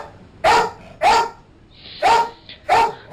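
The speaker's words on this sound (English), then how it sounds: "He's purely barking for attention." A dog barks for attention in four sharp, loud, close barks spaced about half a second to a second apart, with quiet pauses between them.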